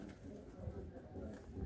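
Yellow pigeons in a breeding loft, soft low cooing running steadily under a faint murmur of background noise, close and quiet throughout.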